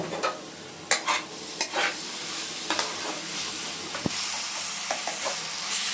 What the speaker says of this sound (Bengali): তারপরে চলে আসছি এখানে শুকনো লঙ্কার গুঁড়ো এবং জিরে ধনের গুঁড়ো, ভালো করে মিশিয়ে নেব।